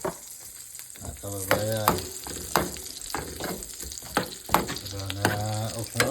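Ginger and onion sautéing in a pan for arroz caldo, a crackling sizzle with frequent sharp spatters and stirring clatter, close, while someone speaks briefly over it.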